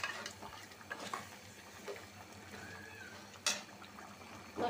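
Curry sautéed and simmering in a pan gives a soft, low bubbling with intermittent stirring scrapes and one brief louder clatter near the end, all fairly faint.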